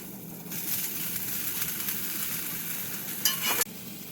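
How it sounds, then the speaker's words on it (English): Cauliflower (gobi) sautes in a cast iron pan, giving a continuous close sizzle with a brief louder burst of hissing near the end, no talking. "I'm using cast iron pan here so that you get the real effect of the gobi here. And we're sauteing it."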